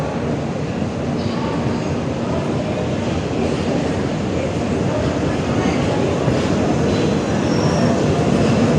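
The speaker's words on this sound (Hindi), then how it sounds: "ये रही हमारी ट्रेन" A passenger train stands at an Indian railway station on the Ranchi to Kanpur route, giving off a steady, loud, broadband rumble with station bustle mixed in; faint voices can be heard in the background.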